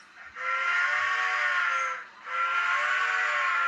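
A model railroad excursion train's steam whistle on an HO/HOn3 layout blows two long, steady hissing blasts with a short break between them, loud and close, with no talk.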